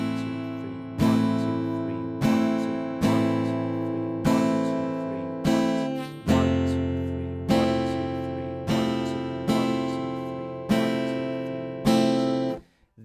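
Strummed guitar chords ring out on irregular accented hits, each strum decaying before the next, in an uneven repeating pattern.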